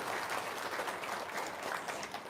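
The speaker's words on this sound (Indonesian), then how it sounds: "Terus tepuk tangan dong." Audience applause, a continuous rattle of many hands clapping, fairly quiet and distant, lasting a couple of seconds.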